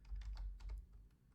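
Quick, light keystrokes on a computer keyboard, a short close burst of rapid clicks at low volume.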